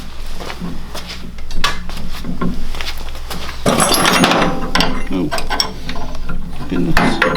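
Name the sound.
tightening parts down onto go-kart gearbox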